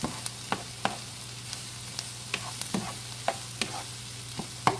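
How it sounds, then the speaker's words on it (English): A vegetable filling for stuffed spaghetti squash is stirred in a pan, with regular sharp clicks and scrapes of the spoon roughly every half second over a low, steady sizzle and hum, close by and without talking. "Stir this up."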